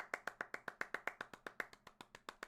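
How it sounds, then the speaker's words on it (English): A single person clapping steadily in a brisk even rhythm, about eighteen close, sharp claps, for an esports player named Dizzy after a review of his Genji play in Overwatch. "Another round of applause for Dizzy, bro."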